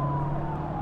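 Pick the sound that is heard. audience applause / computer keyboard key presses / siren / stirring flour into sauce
siren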